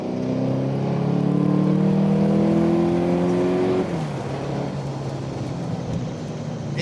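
A TVR Cerbera with a flat-plane crank 4.5-litre V8 revs hard, its engine note climbing steadily under load for several seconds before dropping off abruptly into a lower, quieter drone as the car eases off.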